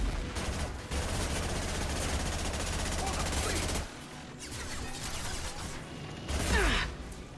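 Automatic SMG fire in Mass Effect 2, a long stretch of sustained rattling shots that breaks off and then resumes in shorter bursts, mixed with combat noise and occasional talk.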